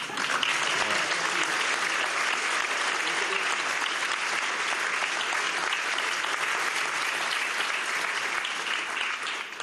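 An audience at a town-hall meeting with Emmanuel Macron in Poissy applauds, dense sustained clapping from many hands at close range throughout.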